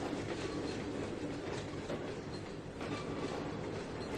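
A train hauling empty boxcars in Trainz 2022 gives a steady rumbling roll with a rhythmic clickety-clack of wheels on rail joints, continuous and fairly close throughout.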